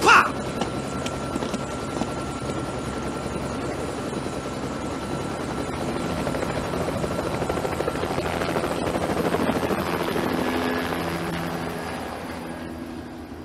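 A military helicopter flying in the Grand Theft Auto: Vice City Stories action game, its steady rotor roar continuous throughout and swelling slightly toward the end.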